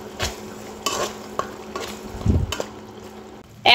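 Green peas are stirred into masala frying in a pan, with a soft sizzle under several scraping spatula strokes and clinks against the pan, close by.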